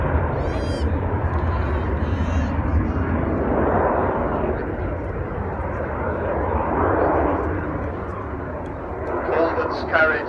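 Avro Vulcan XH558 delta-wing bomber on a flying display at Church Fenton, a loud continuous broadband engine roar that swells and recedes over the airfield, with a commentator talking over it.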